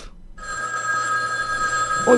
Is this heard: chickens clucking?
no